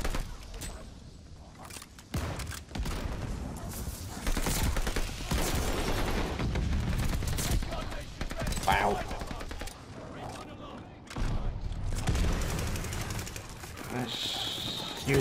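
Repeated gunshots and heavy explosive booms from a war machine weapon in the Call of Duty Vanguard video game, loud and crowded, interspersed with bird coos and a player talking over the action.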